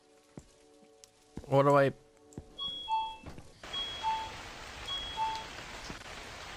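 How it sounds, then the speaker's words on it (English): Rain falls in the horror video game The Convenience Store as a steady hiss that follows a few scattered thuds and a short spoken phrase, with faint tones over it. "It's so rainy."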